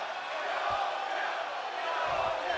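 Capacity crowd in a WWE 2K24 video game wrestling arena chanting continuously, a dense steady roar of many voices with no clear words, filling the whole stretch at even loudness.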